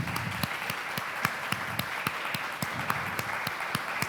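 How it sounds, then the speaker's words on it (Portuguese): A church congregation claps during a Sunday morning service, dense applause with a few sharper rhythmic claps standing out at regular intervals, steady and moderately loud throughout. "Merece uma grande salva de palmas nessa manhã,"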